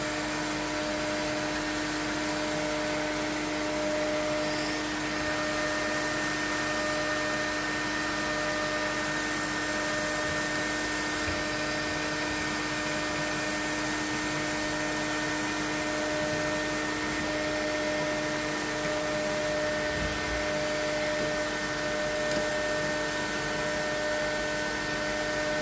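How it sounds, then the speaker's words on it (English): A Hoover vacuum cleaner runs steadily for the whole stretch, a constant broadband whir with a tonal hum, close and loud with no breaks. "Switch my Hoover off a minute."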